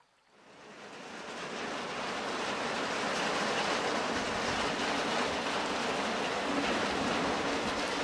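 Heavy rain pours down at Fort Stanton campground in Lincoln National Forest, New Mexico, a dense, steady roar that swells up within the first second and then holds loud and unbroken, with no voices.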